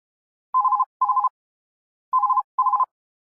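An office telephone rings with two pairs of short trilling bursts separated by a pause, clear and isolated with no talking.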